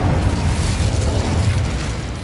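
An Incendio fire spell cast in Hogwarts Legacy, a sustained loud whooshing roar of flame with a crackling burst quality, steady and close throughout with no talk.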